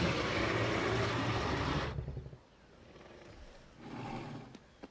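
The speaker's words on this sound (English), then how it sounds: "Do the roar." A dinosaur in the video game Jurassic World Evolution 2 lets out a loud, rough roar lasting about two seconds, then it drops away to quiet low rumbling and a fainter second growl.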